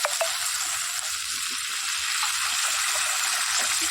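Water poured into a pan of oil-released fried spice paste, a loud steady hiss and sizzle bubbling continuously throughout.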